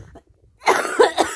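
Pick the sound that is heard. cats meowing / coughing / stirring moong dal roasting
coughing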